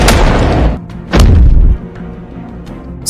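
A gunshot in a film scene: a sharp loud crack followed by a second heavy booming blast, each with a rumbling tail, then quieter background.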